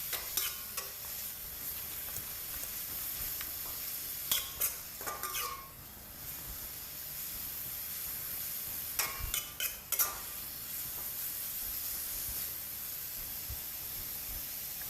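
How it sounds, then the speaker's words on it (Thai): Glass noodles with minced pork stir-fried in a pan: a soft continuous sizzle broken by clusters of sharp scraping and clinking spatula strokes against the pan, with no speech. "ผัดจนวุ้นเส้นเริ่มสุกใสเลยนะครับ"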